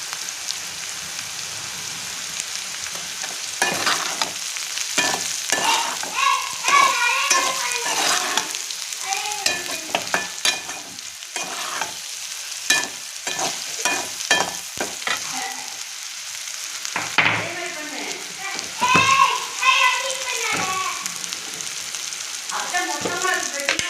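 Brinjal sizzles and fries in a pan while a spoon stirs it, giving a crackling hiss with repeated scraping strokes and bursts of spattering that run steadily throughout at close range.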